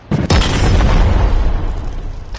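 A rocket launcher blast in the VR game Animal Company gives one loud, close booming explosion that hits sharply and then rumbles and fades over a couple of seconds.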